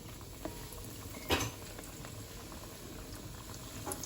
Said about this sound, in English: I'm going to fry these on a low heat. Make sure the oil is nice and hot